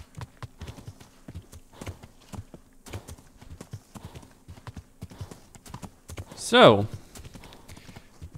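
Horse hooves clip-clop at a steady walking rhythm in the medieval game Kingdom Come: Deliverance, close and distinct, with a loud whinny near the end and a brief spoken word.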